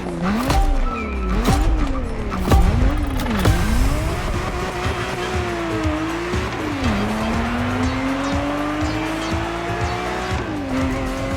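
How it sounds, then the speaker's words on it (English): A Ferrari 365 GTB4 Daytona races in The Crew Motorfest, its engine revving up and down in quick shifts with tire squeals, then settling into a long rising pull, loud and close throughout. "I'm talking about the Ferrari 365 GTB4, also known as the Ferrari Daytona."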